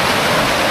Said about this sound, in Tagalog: Sobrang lakas na ulan, oh